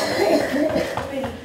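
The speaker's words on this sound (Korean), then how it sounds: "어머니가 갑자기 기침을 심하게 한다." A woman, the mother of a family undergoing chemotherapy for stomach and esophageal cancer, coughs hard in a close, continuous fit lasting under two seconds, with faint voiced sounds mixed in.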